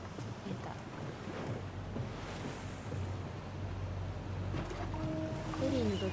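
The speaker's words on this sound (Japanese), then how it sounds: "It's so weird being back on this boat." Waves washing and wind blowing on a ferry boat in the video game Tell Me Why, a steady near, soft rushing wash with low rumble, and a faint tonal chirp toward the end.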